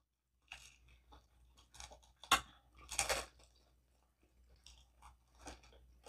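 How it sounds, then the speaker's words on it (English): Crunchy chewing of DiGiorno thin crust pizza, close to the mic: a run of irregular bites and crunches with one sharp loud crack midway and a dense burst after it, quiet pauses between. "We got a good crunch."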